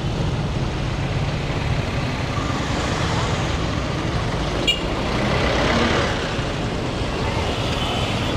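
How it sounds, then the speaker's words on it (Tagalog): Street traffic rumbles steadily close by, led by a truck's low engine drone, with a brief sharp air-brake hiss in the middle and a swelling pass soon after. "Traffic."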